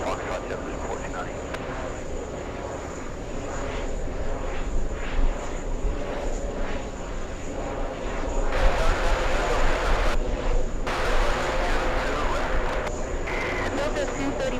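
Big Emirates airliner jet pushing near the runway, a steady roar of engines rising louder midway and holding, with radio and people talking over it throughout.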